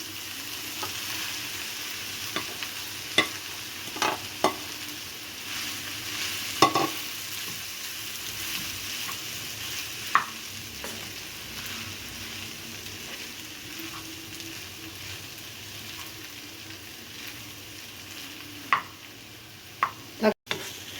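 Spiced potato mixture fries in a pan with a steady, close sizzle, broken by occasional sharp clicks and scrapes of a spatula being stirred through it. No one speaks.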